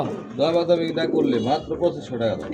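Black Lahori pigeons at a bird market coo in a steady run of soft, rolling calls, heard up close beneath continuous people's talk.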